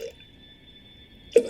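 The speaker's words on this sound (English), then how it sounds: "I'm going to pour this water into my jug." Water poured from a cup into a jug, a short close splash that arrives abruptly after near silence.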